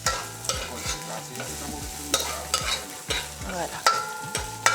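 Onions and spices frying in a pot over a wood fire, sizzling under repeated stirring scrapes and knocks in an uneven rhythm, with a single short spoken word.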